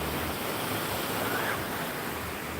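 Strong ocean surf and gusting wind roar at a surf competition in Kuta, a loud, continuous wash of broadband noise with no breaks and no voices.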